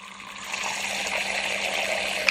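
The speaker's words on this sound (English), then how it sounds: "So I'm going to pop some water in, try not to disturb her too much," Water being poured into a tarantula enclosure, a steady, continuous gush of trickling liquid close by and alone, with no talk, holding an even level throughout.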